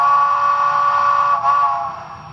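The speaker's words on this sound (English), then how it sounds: "Let's listen to the whistle feature on this particular locomotive." A steam locomotive whistle from a Tsunami2 sound decoder for a Challenger model sounds as one loud, sustained chime blast that briefly wavers and then fades slightly, heard alone.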